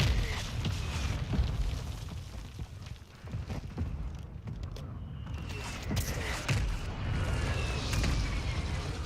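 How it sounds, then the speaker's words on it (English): Mortar strike explosions in a video game rumble as a run of deep booms and bursts, one after another across the whole stretch, loud and heavy. "Our mortar strike is inbound."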